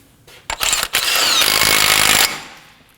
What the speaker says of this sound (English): Go ahead and install the axle nut. I'm going to snug that down.